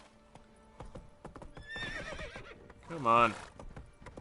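Roach, Geralt's horse in The Witcher 3, clip-clops at a trot and lets out a loud whinny near the end, with a voice speaking briefly over the hoofbeats.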